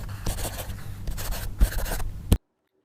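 Pen scratching across paper while fractions are written out, a run of close, dry scrapes and short strokes ending in a sharp tap, then sudden silence.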